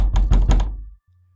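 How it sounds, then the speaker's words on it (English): Banging on a cell door, three or four heavy, close thuds in quick succession that decay into silence, followed by a faint low hum. "She banged on her cell door again."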